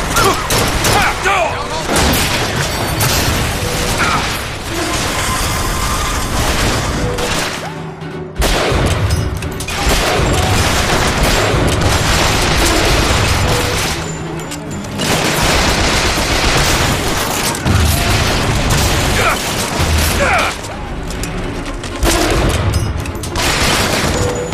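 Turret gunfire in BioShock Infinite, loud dense volleys and booming shots that roll on almost continuously with a couple of brief lulls, while voices shout over the battle.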